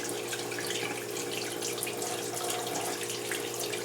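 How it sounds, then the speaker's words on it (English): Steady running hot tap water splashing into a sink while rinsing a brush's bristles, a continuous close hiss with no voices. "I'm going to get it a little hotter now, take down some of the cold water"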